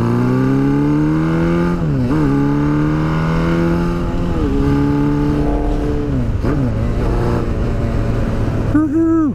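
A custom Honda VFR V4 motorcycle built with CBR parts, carburetors and pod filters, idles loudly and steadily and then revs several times, its pitch rising and falling in sweeps. A rider's voice may be faintly heard over the engine.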